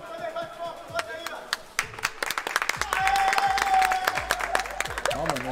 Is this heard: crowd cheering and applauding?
yes